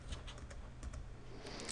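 Computer keyboard typing while coding a C# Windows Forms program: a quick, irregular run of faint, light key clicks over a low steady hum, with no voices.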